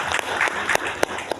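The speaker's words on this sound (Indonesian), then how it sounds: "tepuk tangan dulu dong yang mulia" Audience of Bengkulu language teachers clapping at a literacy and language dissemination event, a fairly dense, close round of applause with a few sharper claps standing out.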